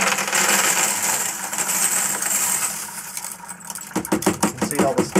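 Stainless steel pins and brass casings poured into a wash tub, a rapid clattering metallic cascade of many small pieces that grows denser toward the end, heard close and fairly loud.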